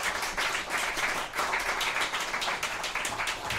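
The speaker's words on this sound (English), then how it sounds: "So a round of applause for the panel." A podcast panel gets a round of applause, several people clapping steadily at a moderate distance for a few seconds, a little chatter mixed in.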